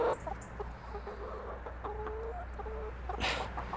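Chickens cluck outdoors, with several soft, short clucks and a brief squawk near the end over a steady low background hum, fairly close but quiet.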